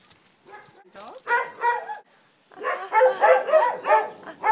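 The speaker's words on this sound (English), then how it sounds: "Now, how many dogs do you have?" Household dogs bark and whine in a few close, loud bursts separated by a brief pause, with yips and whimpering mixed among the barks.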